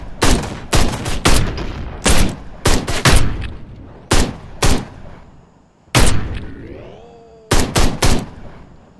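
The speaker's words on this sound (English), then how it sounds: "Hey buddy, where are you shooting? Over here, why are you shooting at me?" Loud gunfire fills a shootout in Ride to Hell: Retribution, sharp bursts of several shots at a time in irregular clusters separated by short pauses, with a rising whine in one gap.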